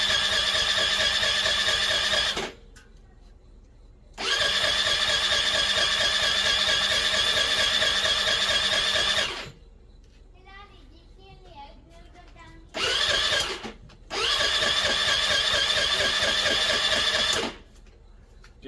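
A 2022 Honda Navi scooter engine cranks over repeatedly without firing, in several long whirring bursts of a few seconds each separated by pauses, loud and close.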